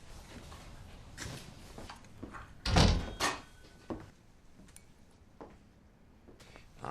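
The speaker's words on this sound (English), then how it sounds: "Leland and Orser burst through the door, immediately demanding coffee." A diner door bursts open as men barge in: a sharp loud bang near the middle, a second knock just after, and smaller bumps and clatter around it against quiet room noise.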